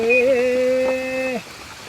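A sustained sung or drawn-out voice rides over a constant wash of Kerala rain, the downpour hissing evenly underneath and continuing briefly after the voice stops.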